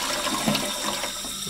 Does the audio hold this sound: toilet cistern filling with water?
yes